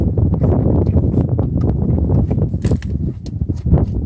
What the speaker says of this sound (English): you know it's hot and windy